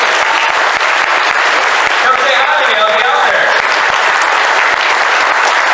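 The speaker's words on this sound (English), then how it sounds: "give them a round of applause" Loud, dense audience applause for a panel at a live event, continuous and sustained, with a voice speaking briefly over the clapping.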